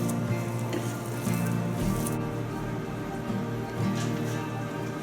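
Paneer and almond kebab mixture is stirred and squished by hand in a bowl, a steady soft, wet mashing texture with faint clinks, close and continuous without talk.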